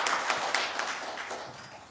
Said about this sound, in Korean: 우리 박수기 우리 광역시의원님 한번 박수 한번 해주십시오